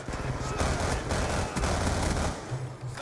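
Automatic gunfire in Black Ops 2: a rapid, sustained burst of loud shots that runs for about two seconds, then a few short bursts follow.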